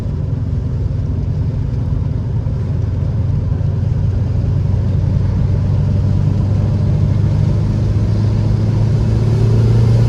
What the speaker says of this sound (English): Like on these twisties, it really comes on boost quick.